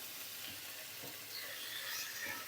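Pork belly fries in oil in a pan, giving a steady bright sizzle with faint crackles, close and continuous.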